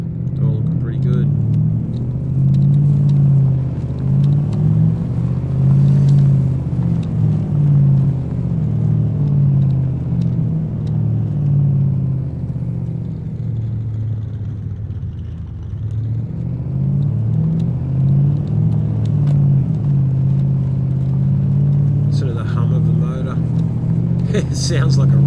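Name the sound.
car engine rumbling in the video game DayZ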